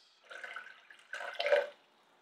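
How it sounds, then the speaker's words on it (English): Water pours into a MioMat machine's reservoir up to its measured fill marks, two short faint trickling bursts in an otherwise quiet setting. "let's put enough of the water, put it in between the 1100 and 1300 milliliter marks"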